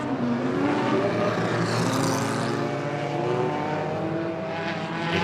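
Stock cars racing around an oval circuit at a night meeting, several engines roaring together in a dense, continuous drone that swells and fades slightly as the pack passes, loud and steady with no voices.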